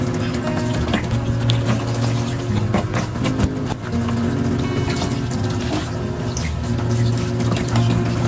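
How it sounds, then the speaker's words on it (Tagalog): Used cooking utensils washed under running tap water in a kitchen sink: a steady rush of water with clinks and knocks of dishes throughout. "huhugasan ko na yung aking pinagagamitan para hindi naman masikip yung lababo"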